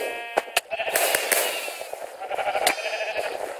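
Sheep bleating in the Minecraft game, several short wavering bleats in quick succession, loud and close, with no talk over them.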